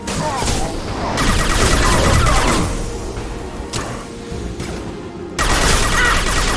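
Gunfire in Mass Effect 2 Legendary Edition during a fight with a krogan grunt: loud, dense rattling bursts of weapon fire with abrupt stops and restarts, amid crashing impacts and chaotic combat noise.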